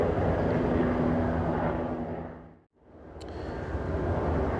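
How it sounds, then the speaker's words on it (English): A helicopter flies over Los Angeles with a loud, dense rotor and engine rumble that briefly cuts out to near silence, then swells back in. "Get a lot of helicopters flying over here."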